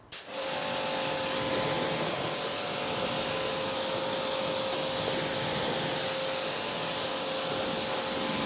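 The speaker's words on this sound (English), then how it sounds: "We're going to use the NTM short nozzle with the Karcher K4, give this a little bit of a rinse down." A Karcher K4 pressure washer with a short nozzle rinses the taped-up engine bay of a 2007 Subaru WRX, a loud, steady spraying hiss with a constant motor hum that starts abruptly and runs continuously.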